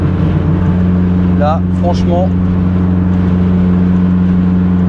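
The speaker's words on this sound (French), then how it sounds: "Ah, il est super agréable le moteur." Renault 5 Turbo 2 engine heard from the cabin while cruising on a dual carriageway, a loud steady drone with a brief rise as it pulls, under someone speaking French.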